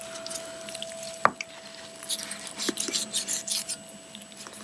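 A knife cuts through the tendon of a chicken wing during home butchering on a homestead, giving one sharp snap followed by close, wet squelching and rubbing sounds.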